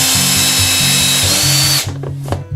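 A loud power drill whirs steadily close up, then stops, leaving a few light knocks and rustles.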